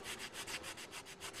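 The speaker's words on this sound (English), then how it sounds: "The restorers now need only apply a finish sanding to the most distinctive feature of the columns, the fluting." Hand sanding along the fluting of a marble column during restoration, a quiet, rhythmic back-and-forth rasp in about eight even strokes, close and alone.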